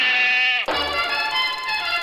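A goat in the video game BioShock gives a loud, sustained, wavering bleat close by that breaks off abruptly, followed by a thinner, buzzy electronic tone.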